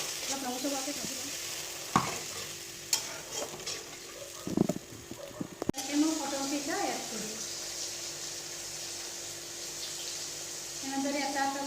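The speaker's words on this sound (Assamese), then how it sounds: "অলপ ৰঙচুৱা হোৱাকৈ ভাজি ল'ম" Ground spice paste with turmeric and salt frying in oil in a pan, a steady close sizzle with occasional stirring scrapes and clatters, pointed gourd dish being prepared.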